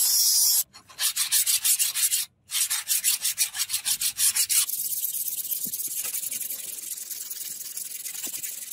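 A katana forged from rusted chain is sharpened with fast back-and-forth abrasive strokes, a bright rhythmic rasping close up that pauses briefly twice, then gives way to a softer steady grinding hiss.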